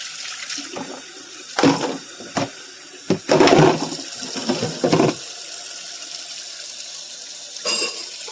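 Hot water running from a tap into a kitchen sink, a steady close rush with clattering bumps and splashes over several seconds.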